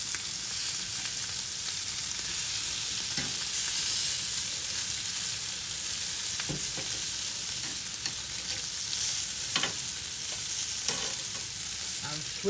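Lamb chops sizzle steadily in a pan over a turned-down flame, a constant close hiss of fat and juices with a few faint pops and clicks scattered through, no voices.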